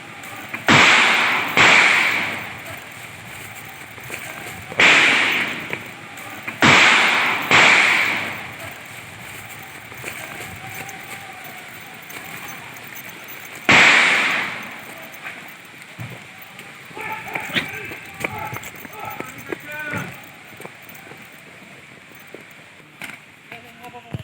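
Several sharp cracking warning shots ring out in a scattered sequence, some in quick pairs, echoing outdoors in forest land during a raid on a cockfight, over background noise and faint voices.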